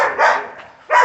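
Dogs at a rescue kennel bark close and loud, three sharp barks in quick succession with brief gaps between them.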